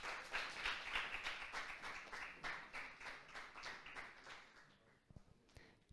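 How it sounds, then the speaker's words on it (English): A small, fairly quiet crowd at a FIFA 23 esports masters finals event in the Luxembourg region claps in steady rhythmic bursts for the four finalists, fading out after about five seconds. "Big round of applause, please, for these 4 mighty players"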